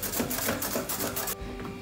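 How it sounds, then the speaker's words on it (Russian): A carrot is rubbed against a kitchen grater in quick, rhythmic rasping strokes, close and fairly clear. About five scrapes run for just over a second, then stop, leaving quiet background. "Морковку натираем на терке"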